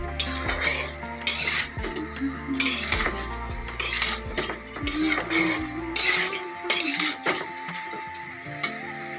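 Soaked dal goes into a pot of sambar seasoned with sambar masala and gets stirred, with repeated clanks and scrapes of a metal spoon against the pot in uneven bursts and a faint sizzle underneath.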